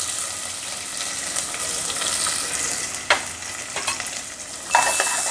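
A large chopped onion dropped into hot oil with whole spices in a pressure cooker for idli kurma, hissing steadily while being stirred, with a few sharper clatters of a spoon against the pot.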